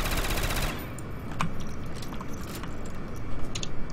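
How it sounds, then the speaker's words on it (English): Sustained gunfire aimed at a zombie boss in Call of Duty's Ragnarok Nazi zombies map, a dense loud barrage that thins after the first second into scattered shots and impacts over a rumbling game background. "I'm just gonna shoot him. Hit markers or not."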